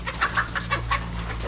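Darag chickens, a native Philippine breed descended from wild junglefowl, cluck in short repeated bursts close by, with a steady low hum underneath.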